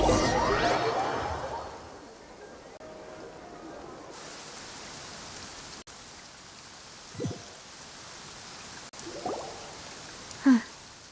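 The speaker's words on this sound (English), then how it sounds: "It's been raining non-stop for a few days now." Steady, soft rainfall in Genshin Impact makes a constant faint hiss, broken by a few brief, isolated thumps and splashes near the end.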